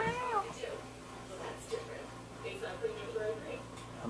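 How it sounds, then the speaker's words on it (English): A house cat gives a few small, thin meows under a low steady hum, with people talking quietly nearby. "I'm recording that little meow."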